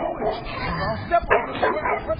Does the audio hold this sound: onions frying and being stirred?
no